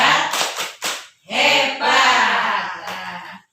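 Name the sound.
group doing the rhythmic "tepuk hebat" clap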